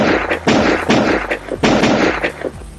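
Gunshot sound effect played back from a V8 sound card, several loud sharp blasts in quick succession with booming tails, close and dry, with no voices.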